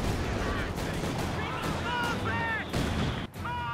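Anti-tank grenades exploding in Company of Heroes 2, repeated blasts and gunfire in a dense, continuous battle din, with a voice talking over it.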